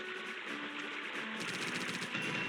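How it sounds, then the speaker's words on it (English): Gunfire from the Gunshot ability in the video game Brave Fencer Musashi rings out as rapid, dense bursts of shots striking logs, loud and continuous with crackling impacts and no talk. "I'll use Gunshot to hit those logs and..."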